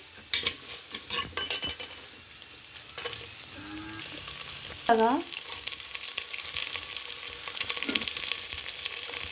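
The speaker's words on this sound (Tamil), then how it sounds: "எல்லாத்தையும் நல்லா வணக்கிக்கலாம் வெங்காயம் நல்லா வணங்கினதும் கொள்ளுப்பருப்பு சேர்த்திக்கலாம்" Crushed garlic and small shallots sautéing in a pan for a horse gram lentil dish, a soft steady sizzle with scraping stirs and a few metal clinks from utensils, close and moderately quiet.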